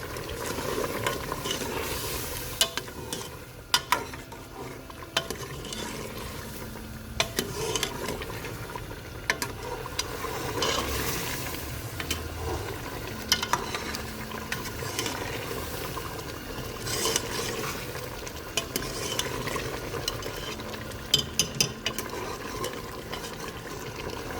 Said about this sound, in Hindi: यहाँ पर 2 बड़े चम्मच घी ऐड किया।